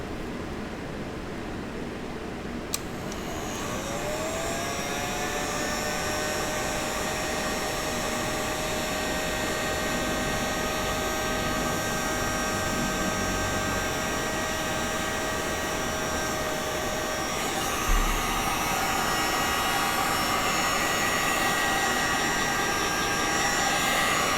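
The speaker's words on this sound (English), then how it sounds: "I'm going to take the heat gun." A heat gun blows steadily onto gold leaf applied to art prints, a continuous loud airy roar with a rising whine as it spins up, running alone without pause for over twenty seconds.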